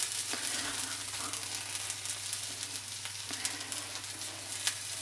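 A folded egg omelette cooks through in a frying pan, a continuous close sizzle and crackle with a low hum underneath and a few faint clicks, steady throughout.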